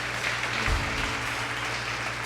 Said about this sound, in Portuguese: Dá um aplauso a Ele.